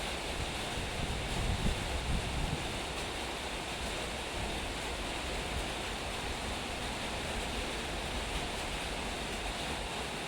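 Strong, dry wind blows under a dark, overcast sky, a dense and steady rushing roar that fills the whole stretch with only slight gusting swells and no voices.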